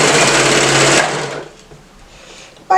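Sewing machine running fast as it stitches pieces of fabric for a romper, a loud, even whir for about a second that slows and stops, followed by quiet handling and a short click at the end.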